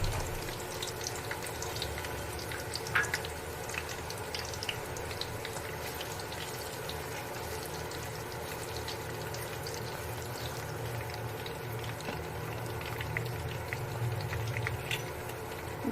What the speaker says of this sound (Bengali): তেলটা গরম হয়ে গিয়েছে, দিয়ে দিচ্ছি পেঁয়াজ কুচি।